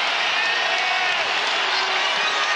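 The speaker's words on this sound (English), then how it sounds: "The roar of the crowd comes again as the Red Raiders D up, trying to protect this 10-point lead" A basketball arena crowd roars in a steady, loud wash of cheering and applause at a Kansas State versus Texas Tech NCAA game, with the Red Raiders holding a lead.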